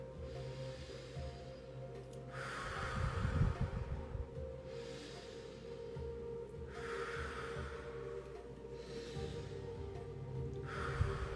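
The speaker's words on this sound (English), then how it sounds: "Breathing in the circular fashion, not pausing at the bottom or the top" Circular breathing, in through the nose and out through the mouth, with slow airy inhales and exhales alternating in a steady rhythm, close and soft over a low background hum.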